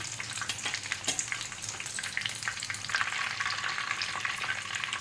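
Chicken drumsticks frying in hot oil and being turned, a steady bubbling sizzle with brief scrapes and clicks of a utensil, rising slightly toward the end, close up with nobody talking.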